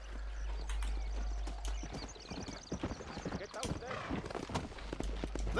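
Horse hooves clip-clopping in the Western video game Red Dead Redemption, a steady trotting beat with an occasional whinny, mixed under game sounds and people talking.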